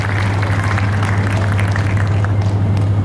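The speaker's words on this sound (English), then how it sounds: "so please give them a round of applause" Audience applause at the Ladies Fund LEC 2013 event, a steady, even wash of clapping spread through a large room, with a constant low hum beneath it.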